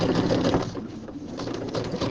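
Sewing machine running steadily while stitching a 1/4 inch binding seam on a fabric project bag, a close, continuous whir with slight variations in pitch and no talk.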